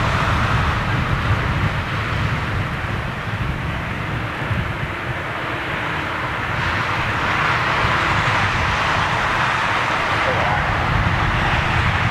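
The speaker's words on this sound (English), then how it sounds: "Dreamliner on his way out after these two by the looks of it." A Boeing 787 Dreamliner departs with a steady, broad engine roar that holds loud and unbroken throughout, mixed with distant airport background noise.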